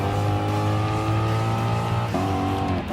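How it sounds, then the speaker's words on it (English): Race car drifting on racing hard tires in Gran Turismo Sport: a loud, steady engine drone with a layered harmonic whine, shifting pitch abruptly near the end as the revs change, continuous with no voices. "looks like drifting with racing hard tires"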